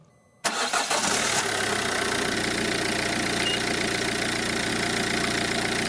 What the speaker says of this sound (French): Démarrer le moteur